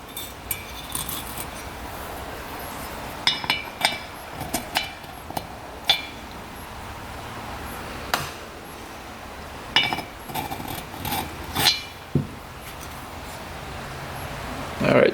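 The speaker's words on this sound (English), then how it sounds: "So, piston ring number 1 going in." Light metallic clinks and taps sound sporadically as a piston ring is fitted into the cylinder of a 1960s Ducati scooter in a quiet workshop, with soft handling noises and background rustle between the clicks.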